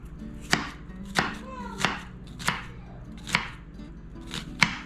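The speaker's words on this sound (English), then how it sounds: "All right, so onions chopped, ready to go." A knife chops through an onion on a cutting board in about seven slow, evenly spaced strikes, each a crisp close thud with quiet pauses between and no talking.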